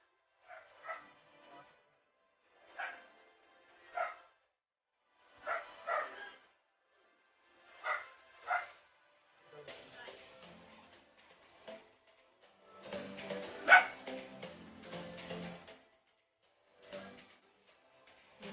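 A dog barking at a waterfall site in Bolinao, Pangasinan: a series of sharp barks in pairs and short bursts, spaced a second or two apart, fairly distant, with the clip otherwise quiet.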